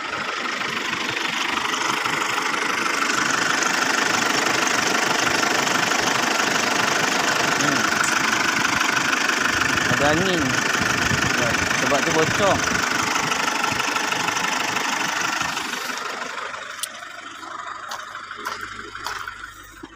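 A Ford Ranger pickup truck engine idles steadily with a low rumble and vibration, while someone talks over it; the engine settles and fades near the end.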